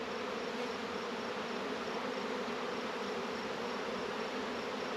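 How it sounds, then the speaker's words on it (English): Honey bees swarm around hive boxes and a swarm trap, giving a dense, continuous buzzing drone that is loud and close throughout, with no voices. "A bunch of bees came back to the trap"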